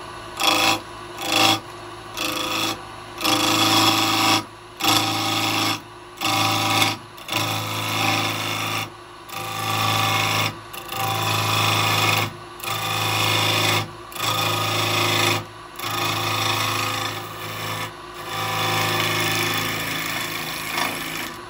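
A wood lathe rough turning a maple bowl with a carbide tool, loud rasping, scraping cuts coming in repeated bursts separated by short pauses, close and with no talk.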